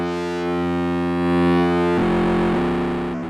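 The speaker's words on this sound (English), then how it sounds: "Turn on this tube amp effect." A sustained, buzzy, harmonically rich tone from a pure sine wave run through a tube amp effect in the FM8 synth, holding steady and then shifting to a rougher, gritty texture partway through.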